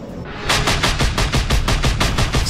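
Rapid turret gunfire in the video game Just Cause 2: about a dozen loud, evenly spaced shots in a steady automatic stream that starts abruptly after a brief quiet lead-in.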